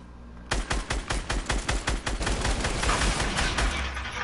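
Video game gunfire emptying an entire ammo supply: a rapid string of loud, close automatic shots that runs together into a dense, continuous rattle as the clip goes on.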